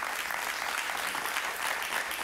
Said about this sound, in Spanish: esta señora Liliana Hernández, un aplauso para ella